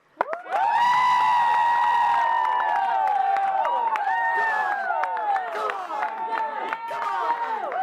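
A live audience cheers and whoops loudly with scattered clapping for a trick shot at a sports show, the roar staying strong and sustained for nearly eight seconds before easing slightly.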